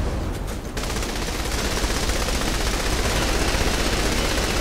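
Sustained automatic assault rifle fire from Saints Row 3, a dense, loud continuous burst of rapid shots that runs almost the whole time after a brief opening.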